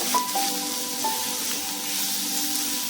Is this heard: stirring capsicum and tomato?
yes